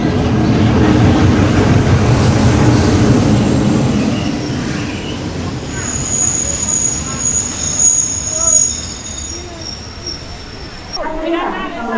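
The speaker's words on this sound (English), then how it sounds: "Well, it's kind of busy railway station." Trains at a busy railway station in southern Thailand, with loud rumbling and rolling noise dominating the first seconds, then lighter station bustle with high squealing tones, and voices talking throughout.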